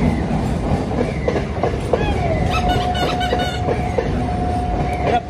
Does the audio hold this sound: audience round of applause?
no